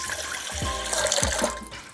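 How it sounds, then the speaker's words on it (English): Water poured into a mixing bowl while making a soy, sake and mirin sauce for pork belly chashu, heard as a steady close splashing and trickling for a couple of seconds with no talking. "in a mixing bowl, I'm gonna combine 1 cup of water"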